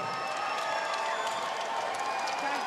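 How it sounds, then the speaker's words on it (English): Kickboxing event crowd applauding fighter Kayne Conlan after a 62kg bout, a steady, distant roar of clapping and cheering from a large hall with a faint voice mixed in. "a round of applause for Kayne Conlan"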